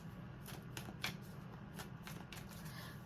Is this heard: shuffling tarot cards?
yes